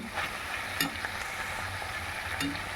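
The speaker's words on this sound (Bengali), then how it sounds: "চলো ভাজা করে নিই এটা ভাজা ভাজা মতন হয়ে এসছে" Food frying and sizzling in a pan, with a steady close hiss and a few scraping stir sounds, no talking.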